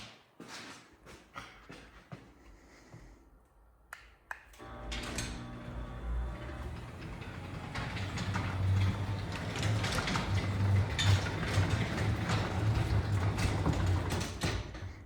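A LiftMaster 3850 Elite Series garage door opener with a 12 volt DC motor starts after a few clicks and runs steadily, a continuous mechanical hum and rattle building in loudness.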